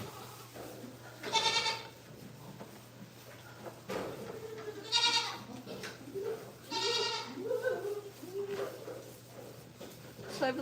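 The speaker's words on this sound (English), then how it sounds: "There's pretty many goats in this pen." Goats bleat repeatedly in a farm pen, several loud drawn-out calls from nearby animals spaced across the stretch over a steady low hum and scattered rustling.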